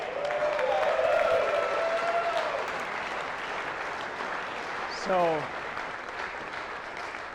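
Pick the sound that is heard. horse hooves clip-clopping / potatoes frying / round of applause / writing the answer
round of applause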